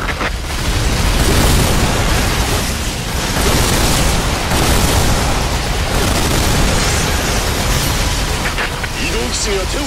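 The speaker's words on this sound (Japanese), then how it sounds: "地面に落ちた弾は爆発します。" Shells from a weapon in the Earth Defense Force 6 video game explode on landing, a dense, continuous roar of blasts and rumbling booms that fills the whole stretch, with a voice talking underneath.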